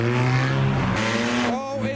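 A 500hp Toyota Chaser pulls away hard from a car meet, its engine note loud and rising over two seconds before easing off, with a short tire chirp mixed in and faint voices nearby.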